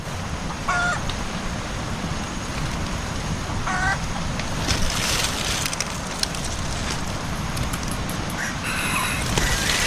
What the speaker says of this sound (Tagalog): kanina pa po putak ng putak diyan